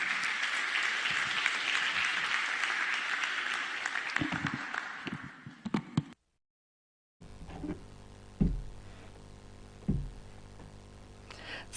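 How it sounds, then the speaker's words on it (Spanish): Audience applause for a speaker at a Bible seminar, a dense sustained clapping that fades out after about six seconds, followed by a pause and then quieter room sounds with a few sharp knocks. "vamos a dar un fuerte aplauso al expositor, Pastor Emmanuel Kim."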